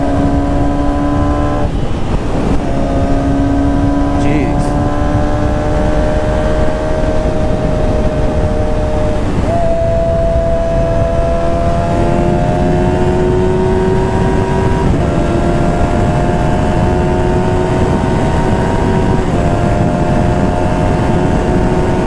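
A motorbike engine revs steadily while riding, the pitch climbing in repeated stepped runs through the gears over loud constant wind rush, with a touchy throttle and modest power.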